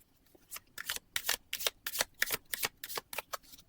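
Playing cards are shuffled for a card reading, a quick series of about a dozen crisp riffling flicks in an uneven rhythm, close and alone.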